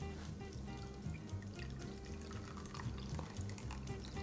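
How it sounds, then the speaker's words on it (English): A thin stream of lemon juice pours and trickles quietly onto zest, with soft splashing and small drips, heard faintly up close. "and just pour the juice"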